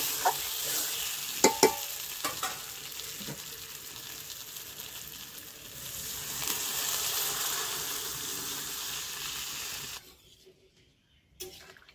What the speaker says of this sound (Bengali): কষানো হয়ে গেছে, এখন আমি জল দিয়ে দেবো।